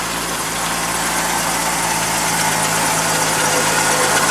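A 1986 Ford F150 truck engine idling steadily and loudly up close, a constant even rumble with no talk over it.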